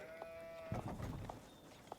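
Sheep bleat in an Age of Empires 4 match, a few short faint bleats scattered over quiet game ambience with soft clicks and low rumbles.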